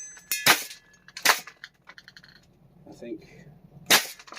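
A FLAK 10 gas airsoft gun fires three sharp, loud cracks spaced well apart, close by, with someone speaking briefly between the shots.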